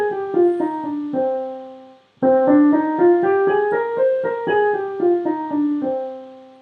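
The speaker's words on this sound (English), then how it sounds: "this is what the Aeolian would sound like" Tonal notes step through the Aeolian natural minor scale, rising then descending in even single notes, clear and close with no voices.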